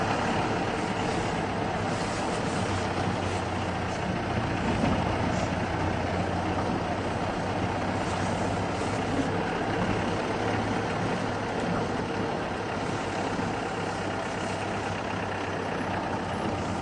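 Vehicle engine running steadily while driving, a constant low rumble with road and wind noise, unchanging and fairly close throughout with no talk.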